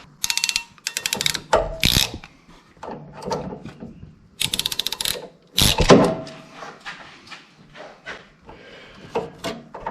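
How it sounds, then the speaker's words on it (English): A clamp being tightened on a fuel line during a 6.0 LS engine swap in a Squarebody truck, heard as quick bursts of ratchet clicking with pauses and small handling noises in between. "I'm going to do another clamp just to have a little extra insurance"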